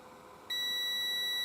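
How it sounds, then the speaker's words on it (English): A multimeter on continuity mode tests the thermal fuse of a travel hairdryer, giving one clear, sustained beep that begins about half a second in and holds steadily to the end over faint background hiss. "I'm going to check the fuse first, which I'm going to assume beep beep."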